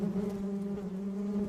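A swarm of bees buzzes outside in a steady, droning hum that holds an even pitch and moderate loudness throughout, with no voices.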